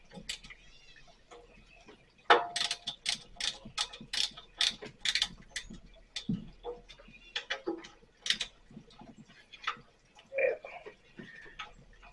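A wrench works a bolt on a Northstar Honda GC160 5 HP power washer during repair, giving irregular ratcheting clicks and short metallic taps in bursts, close and moderately loud, with no talking.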